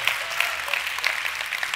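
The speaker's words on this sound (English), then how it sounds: "You didn't even clap for Amberlin, but you clap for that?" Brief scattered clapping from an audience at a talk, light and spread across the whole moment, with no one speaking over it.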